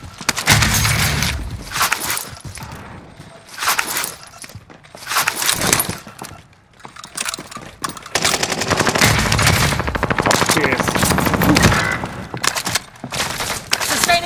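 Rapid automatic gunfire from submachine guns in the video game Call of Duty: Modern Warfare, loud and sustained in dense bursts with brief lulls, some distant shots mixed in.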